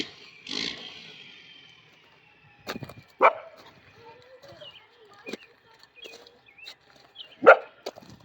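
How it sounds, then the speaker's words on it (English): A dog barks in several short, sharp bursts spread across a quiet outdoor setting, with loud isolated yaps between pauses and faint background noise. "Quit barking."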